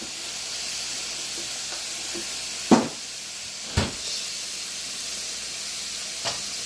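Butter sizzles steadily in a hot, oiled skillet, a constant close hiss broken by a few dull knocks and taps of a utensil against the pan.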